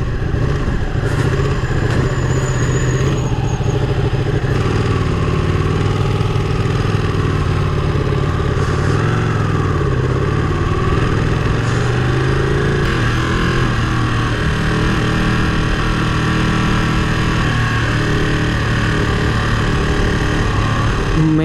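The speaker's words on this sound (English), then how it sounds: "Just riding, so cruising at actually in 40 kilometers per hour speed on a Ducati" Ducati 959 Panigale superbike cruising at about 40 km/h, its engine a steady, loud drone with mild swells in pitch and rumble throughout, no voices over it.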